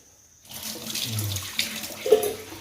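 Water runs and splashes steadily as it is poured over washed sprouts being prepared for usal. The sound starts abruptly, stays close and fairly soft for about two seconds, and no one speaks.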